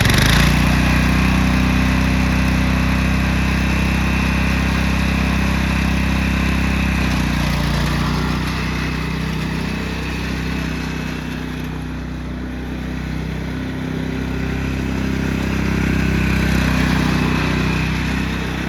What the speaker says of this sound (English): we got the Craftsman lawnmower today